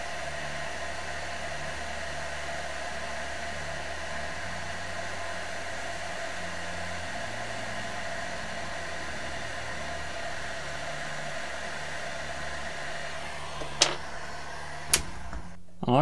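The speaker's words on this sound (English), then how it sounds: "So let me get this plugged in and then give this thing a reflow." A hot air reflow station blows a steady, even hiss of air while heating the chip on a faulty graphics card, running unbroken, with a few sharp clicks near the end.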